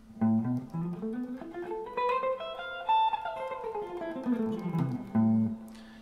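A guitar runs up and back down a Hirajoshi Japanese pentatonic scale, single notes with audible slides between some of them, played clearly and alone.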